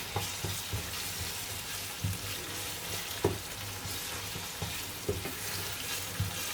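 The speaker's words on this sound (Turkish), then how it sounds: "Güzelce kavurayım şimdi ben bunu." Spices including cumin sautéing in a pan for noodle-substitute dough dish: a continuous crackling sizzle with repeated stirring knocks and scrapes at an irregular pace, close and fairly steady.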